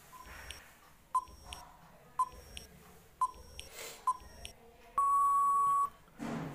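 An electronic timer gives a series of short, evenly spaced beeps about once a second, then a longer sustained beep near the end, fairly clear in a quiet room.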